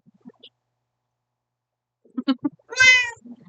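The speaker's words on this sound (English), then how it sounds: "Meow." A cat meows once, loud and close, with a few short soft calls or sounds just before it and a brief faint noise after, in an otherwise quiet room.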